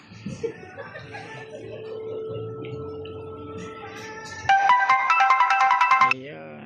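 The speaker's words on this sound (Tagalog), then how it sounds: "So, nag-alarm na yung cellphone ko." A mobile phone alarm rings indoors in a condo, its bright repeating electronic tone loud and near for a couple of seconds, after quiet background sounds and a brief chuckle.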